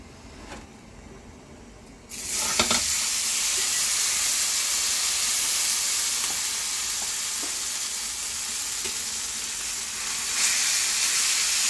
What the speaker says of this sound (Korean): 녹두 부침개를 부치겠습니다.